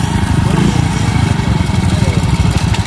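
A Hero motorcycle engine revs hard and steadily at the start of a street race against another bike, a loud, close, rough mechanical drone with shouting voices over it.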